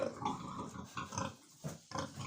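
Pigs on a farm grunting up close in short, irregular snorts and grunts, several bursts in quick succession with brief gaps between them.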